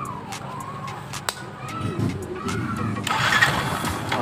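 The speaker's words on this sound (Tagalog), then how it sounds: "umaandar po yung motor" A Yamaha motorcycle engine idles steadily nearby, with a constant low rumble and sharp clicking ticks at the start, while an electronic alarm chirps and warbles over it and a hiss swells near the end.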